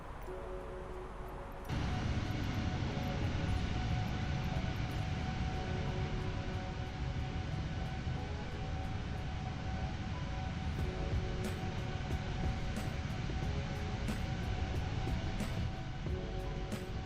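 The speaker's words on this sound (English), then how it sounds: "These engines are a bit loud." Airbus A330 engines in Microsoft Flight Simulator 2020, a steady, loud roar with a low hum and faint whining tones that starts abruptly and then holds without letting up, no talking over it.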